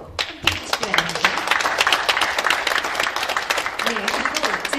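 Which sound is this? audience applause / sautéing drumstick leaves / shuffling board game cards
audience applause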